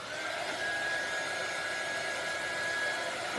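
A hair dryer blows steadily on freshly made craft pieces, giving a continuous, fairly quiet rushing whoosh with a faint whine and no talking.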